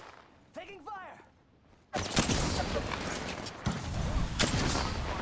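Gunfire in Apex Legends erupts suddenly after a short stretch of a voice talking. It becomes a dense, loud, continuous barrage with sharper bursts punching through, and speech continues underneath.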